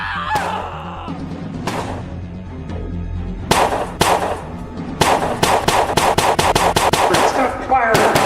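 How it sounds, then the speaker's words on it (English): Rapid bursts of video game gunfire, first a few scattered shots and then a dense run of repeated automatic fire, with a voice heard faintly underneath. "Stop firing! What are you doing?"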